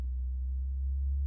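Steady low sine test tone played through a subwoofer, a constant deep hum held at even loudness from start to finish with nothing else audible.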